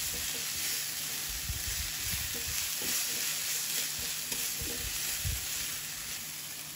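One clove of minced garlic fries loudly in a pan with a dense, continuous sizzle and hiss. Low scraping bumps from the stirring spoon surface now and then throughout, and no one talks.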